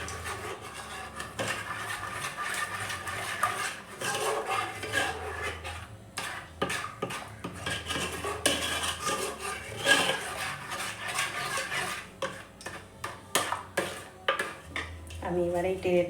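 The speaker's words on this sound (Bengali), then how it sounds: "ভালো করে যত ফেটাবে ততই ভালো হবে আইসক্রিমটা খেতে।" Mango, milk and banana ice cream mixture beaten briskly by hand in a bowl, a steady run of clinking, scraping utensil strokes with brief pauses, close and fairly loud.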